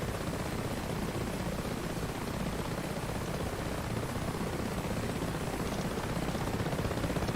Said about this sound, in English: I'm not sure if Snakepit saw that helicopter come in, but he is landing right here on the train station.